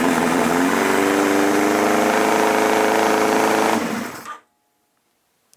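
A Yamaha XJR1300 motorcycle engine runs loud and close at high, steady over-revving speed, a dense mechanical drone that then cuts out abruptly into near silence.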